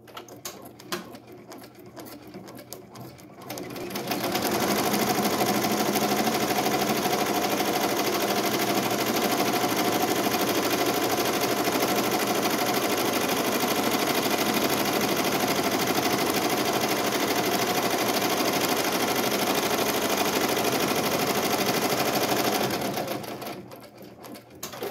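Embroidery machine stitching a vinyl appliqué, starting after a few quiet seconds and running in a loud, continuous rapid needle chatter for about twenty seconds before stopping.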